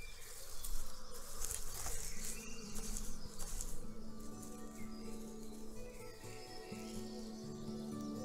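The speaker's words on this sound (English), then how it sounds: "bumblebee is about to start a long day of foraging for pollen and nectar." A foraging bumblebee buzzes steadily and faintly close by, a continuous hum with no voices over it.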